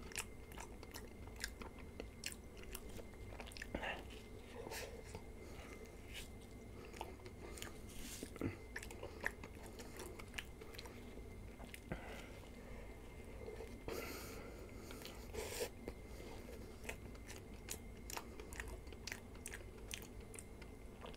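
Chocolate and strawberry ice cream is eaten close up in a quiet setting, with soft irregular bites, chewing, and occasional crunchy or squishy mouth sounds spread across the stretch.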